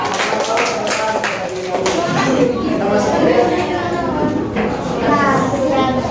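Students clap for a classmate in a classroom, a close, uneven burst of hand claps mixed with children's chatter and voices throughout.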